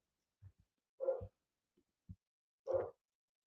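Dogs bark a few times in the distance, faint and sparse, with short separate woofs spaced across a quiet background.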